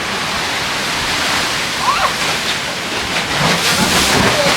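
Ocean water surges and splashes into Thunder Hole, the rocky inlet in Acadia National Park, as a dense, rushing roar that swells and slushes close by for several seconds.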